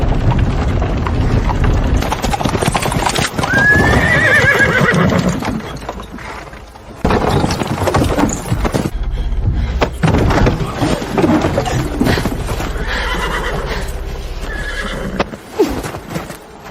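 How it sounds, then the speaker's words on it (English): A horse whinnies loudly, with galloping clip-clop hoofbeats and further neighs, all close and prominent through a busy dramatized scene with no clear talk. "Quick, get my horse ready immediately!"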